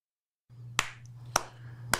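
Three sharp, evenly spaced slaps, made by hand to imitate cheek clapping, ring out alone over a low steady hum.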